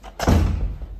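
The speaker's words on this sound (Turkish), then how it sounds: "Kapıyı da kapat." An office door is pushed shut with a single close, heavy thud, followed by a short dull rumble as it settles.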